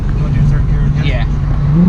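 A turbocharged 2001 Audi B5 S4 with Tial 770 turbos, running 91 fuel with meth, pulls hard in third gear during a tuning session, a loud steady engine drone filling the cabin while people talk over it.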